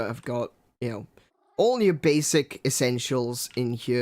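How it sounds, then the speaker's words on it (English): A cat in the Minecraft video game meows and purrs in short bursts, mostly under and between a man's close, steady talking. "That's my cat."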